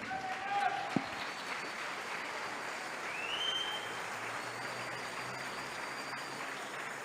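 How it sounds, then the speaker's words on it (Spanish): Church congregation applauding as an offering to Jesus, a steady wash of many hands clapping that fills the whole span at moderate level, with a loud single thump near the start and faint voices and shouts mixed in. "Alguien dale una ofrenda de palmas a Jesús."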